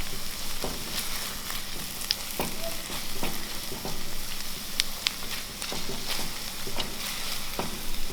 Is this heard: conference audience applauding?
no